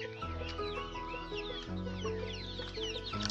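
Chickens cluck and call in a coop on a small poultry farm, several birds close by in a busy, overlapping stream of clucks.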